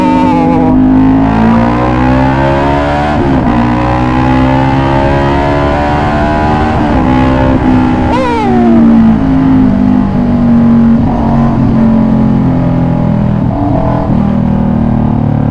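A 2016 Kawasaki Vulcan S motorcycle fitted with a Two Brothers full-system exhaust is ridden, its engine loud and close, climbing through revs and shifting gears repeatedly over a sustained ride without talk.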